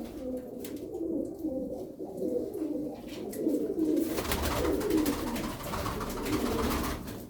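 Turkish tumbler pigeons coo in a loft at Darıca, a soft steady murmur of overlapping low calls that grows fuller and louder partway through, with no talk over it.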